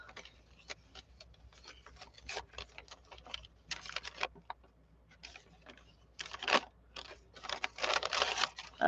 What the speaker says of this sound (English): The back's coming off of this piece of paper.